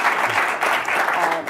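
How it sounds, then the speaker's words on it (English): An audience applauding Jack Ma, a full, dense round of clapping from a large crowd filling the whole stretch at steady loudness. "please let's give another round of applause to Jack for his time"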